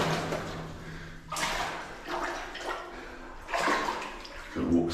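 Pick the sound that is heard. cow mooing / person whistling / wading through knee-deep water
wading through knee-deep water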